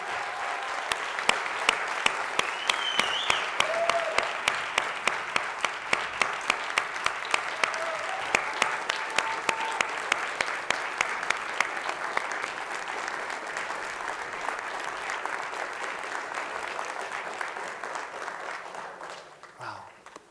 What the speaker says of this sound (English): how about we give our students another round of applause for helping us kick off Fall 2023